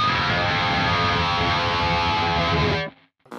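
Heavily distorted electric guitar holding a dense, steady roar meant to imitate a passing airplane, loud and unbroken before cutting off abruptly near the end.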